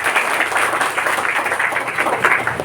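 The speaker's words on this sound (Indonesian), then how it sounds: "Mas Sigit Dwi Angkoro, tepuk tangan untuknya." A short burst of applause from a crowd at a regional parliament event in Banjarnegara, Indonesia, dense steady clapping throughout.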